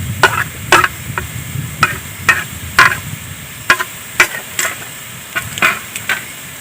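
Finely chopped onions and capsicum are stirred in a pan for a chicken keema paratha roll, a spoon scraping and clacking in a steady series of sharp knocks over a faint sizzle.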